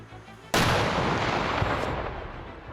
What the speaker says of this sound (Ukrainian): Вибух!